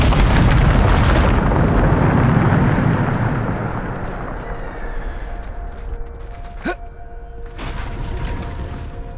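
A Bombarda spell explodes in Hogwarts Legacy with a loud, close boom that dies into a long rumbling tail, followed by faint magical chimes and a sharp crackling burst.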